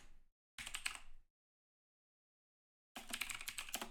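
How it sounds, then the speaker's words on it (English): Quick clicking keystrokes on a computer keyboard as a docker build command is entered in a command shell, two close bursts of typing separated by a silent gap. "you open up a command shell and you type in docker"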